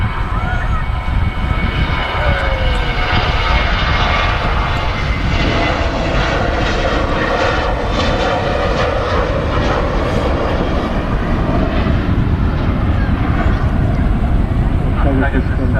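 A Pegasus airliner bound for Istanbul rolls down the runway at Manchester Airport, its engines a loud, steady, broad roar that fills the whole stretch, with someone talking over it.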